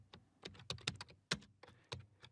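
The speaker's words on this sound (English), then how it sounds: "so I'm going to type -name," Typing a PowerShell command on a computer keyboard: close, crisp key clicks in an uneven run, with no talking.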